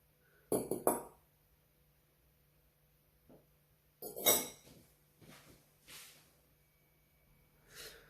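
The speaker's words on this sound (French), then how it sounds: "une fois toutes les pointes de tous nos choux écrasés à la fourchette" A metal fork pressing down the pointed tips of choux pastry on a tray, producing a few sharp clinks and taps in short bursts separated by quiet pauses.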